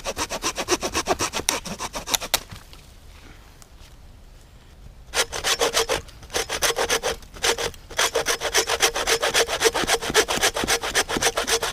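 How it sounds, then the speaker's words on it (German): Hand saw cutting through wood held across a knee, a close, steady rhythm of rasping back-and-forth strokes that pauses briefly midway before resuming at a brisk, even pace. "Jetzt will ich das Ganze noch versuchen, wenn man das nur übers Knie hält und sägt."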